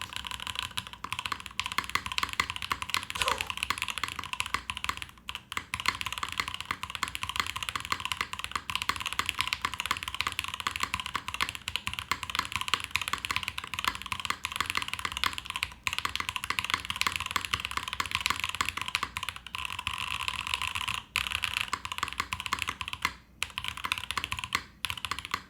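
Continuous fast typing on a mechanical keyboard fitted with GMK keycaps, dense clacky keystrokes close up with brief pauses, steady and moderately loud with no talking.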